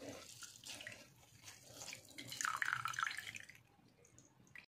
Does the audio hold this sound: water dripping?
yes